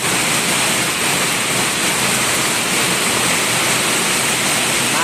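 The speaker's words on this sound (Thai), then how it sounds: "มาแล้วมาแล้วมาแล้วฝนมาแล้ว" Steady, dense hiss of rain falling, loud and continuous with no pauses and no voices.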